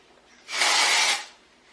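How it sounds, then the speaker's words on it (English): A single short, steady hiss of dry shampoo aerosol sprayed into hair, close and fairly loud, lasting under a second before fading out. "I'm literally just going to pull my hair up a tiny bit and spray it roughly in there"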